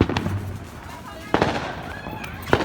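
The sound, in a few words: fireworks going off on 4th of July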